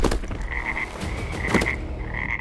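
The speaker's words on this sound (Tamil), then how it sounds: "அப்போது சட்டென்று ஒரு தவளை அவனது முகத்திற்கு நேராக குதித்து வந்து நின்றது" A frog croaks close by in quick, repeated bursts, a dense rhythmic chorus running continuously through the short stretch with no voices over it.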